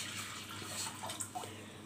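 Water poured into a pot while making homemade Jam-e-Shirin sharbat, a steady splashing and trickling stream with a few brighter drips, close and continuous.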